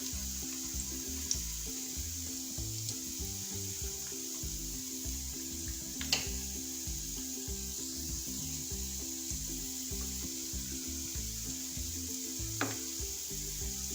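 Mixed vegetable kofta deep frying in hot oil, a steady, even sizzle and bubbling that runs throughout, with a couple of faint clicks and no talking.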